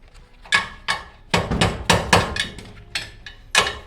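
Hammer blows drive a bolt into the suspension of a fifth-generation Toyota 4Runner during a leveling lift kit install, about a dozen sharp metallic strikes in an uneven rhythm, loud and close, with no talk.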